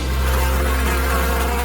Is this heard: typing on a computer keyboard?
no